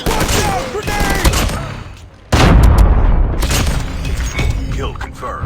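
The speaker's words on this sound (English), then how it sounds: "Watch out! Grenade!" A grenade explodes with a loud, close boom amid rapid bursts of gunfire in the Call of Duty Mobile shooter game, and game voices call out around the blasts.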